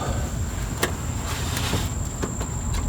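Car door window being wound up by a manual crank handle, a quiet steady mechanical whir with faint clicks from the regulator, heard up close with no talking.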